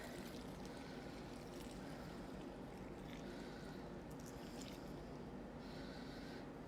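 Disinfectant solution poured over half paper towels inside a container, a soft continuous liquid trickle and gurgle lasting several seconds, quiet and close, with faint handling noises.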